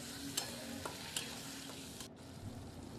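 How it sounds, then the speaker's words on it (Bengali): Spice masala stir-fried in a pan with a splash of water for Bengali chicken kosha, giving a soft steady sizzle with a few sharp spoon clicks against the pan, fairly quiet and close, with no talking. "অল্প খানিকটা জল দিয়ে মশলাটাকে যতক্ষণ না তেল ছেড়ে এসছে ততক্ষণ ধরে কষিয়ে নিতে হবে"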